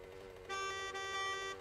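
A motorcycle horn in the video game 7 Days to Die gives a steady, harsh electronic tone twice in quick succession over a low background hum, fairly faint and synthetic.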